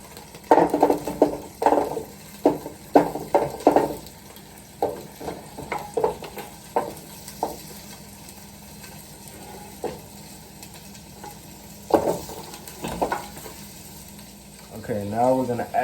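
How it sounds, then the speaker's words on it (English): Carrots frying in oil in a pan, a low sizzle under repeated clattering stirs and bursts of scraping across the pan, close, with scattered vocal sounds in places. "we're gonna add some more oil and we're gonna cook up some carrots"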